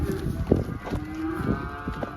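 Cattle on a Kansas farm moo and low repeatedly, several overlapping calls from calves and cows close by over a steady busy background of the pen.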